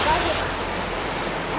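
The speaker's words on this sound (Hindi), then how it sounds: "पानी हवा में जो उड़ रहा है ना झरने से, उसकी वजह से ऐसे बारिश जैसा ऊपर गिर रहा है" Waterfall spray blowing through the air on the Jalori Pass road, a steady broadband rush of falling and misting water, close and loud, with a brighter burst at the start.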